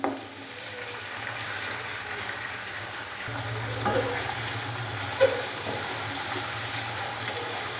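Boiled mutton frying in a pan with onions and ginger-garlic paste for a degi yakhni pulao, giving a steady sizzle with some stirring scrapes and a brief louder clink near the middle.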